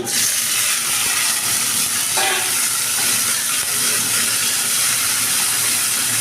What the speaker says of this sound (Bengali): পেঁয়াজের কুচোটা লাল লাল হয়ে ভাজা হয়ে এলে